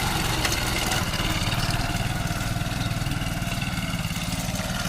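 A Hero Passion Pro motorcycle engine, fitted with a cooling fan, idles steadily up close, a rapid even thrum with a constant chugging pulse and no voices.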